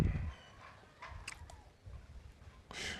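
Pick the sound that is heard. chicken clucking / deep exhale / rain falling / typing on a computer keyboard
chicken clucking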